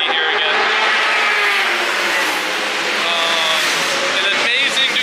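Ducati motorcycles lap the Spa circuit on a track day, a loud, continuous high engine wail with rising and falling pitch as bikes pass close.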